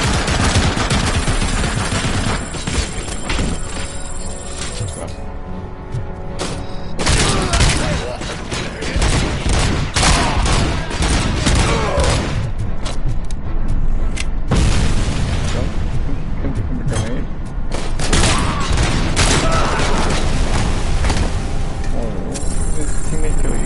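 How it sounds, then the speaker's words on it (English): Heavy machine gun fire in the video game Robocop Rogue City, loud sustained bursts of rapid shots and booming impacts rolling almost continuously, with brief lulls between volleys. "Heavy machine gun"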